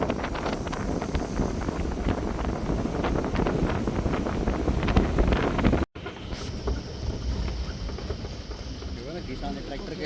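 Heavy rain drums on a tarpaulin cover during a jungle drive: a dense, loud, steady patter of drops with a brief dropout near six seconds, then a slightly softer, continuous hiss.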